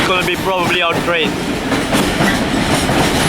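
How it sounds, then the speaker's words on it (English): A container train of flat cars rolls into a rail yard from the port, its wagons rumbling and clacking loudly up close while a brief voice is heard early on over the noise. "they just pulled in a container train from the port with flat cars"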